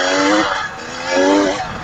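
A KTM 300 TPI two-stroke dirt bike engine is revved hard in two rising surges, a loud, raspy, buzzing roar close by.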